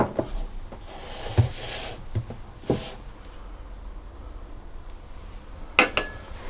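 Cake batter being mixed with lemon zest and vanilla bean seeds: a utensil gives scattered clinks and taps against the bowl, irregular knocks with quiet gaps, and a couple of sharper clinks near the end.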